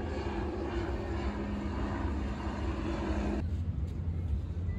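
A navy aircraft passing over the harbour during an air show flypast, a loud, continuous engine drone with a rough, rasping edge from the propeller tips, holding steady before easing slightly near the end.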